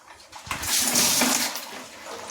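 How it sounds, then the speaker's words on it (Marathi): Water splashes and pours over crabs being prepared for a village-style spicy crab curry, a short broad gushing rush that swells and then eases off, with no talk. "खेकड्यांना पाणी देत आहे"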